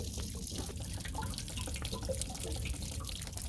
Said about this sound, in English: That's the hot water tank draining itself.